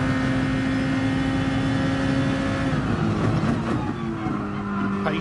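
A race car engine in a racing game drones at full throttle around the Barcelona circuit, holding a steady high whine before its pitch shifts and wavers near the end, loud and constant.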